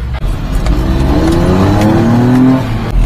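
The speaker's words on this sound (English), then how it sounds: "She burned a tire." A supercharged mini-truck revs hard and accelerates, its engine climbing steadily in pitch with a rising whine as a tire burns and squeals, loud and close throughout.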